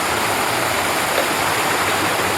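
A forest stream rushes steadily close by near Bendaobaglai Waterfall in Assam, a dense, unbroken wash of flowing water filling the whole moment without voices.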